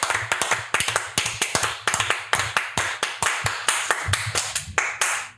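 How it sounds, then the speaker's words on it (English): A podcast guest claps in a quick, steady run of crisp hand claps, close to the microphone and alone with no talk over it. "He did a small clap."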